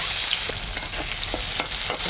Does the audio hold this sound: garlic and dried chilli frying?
yes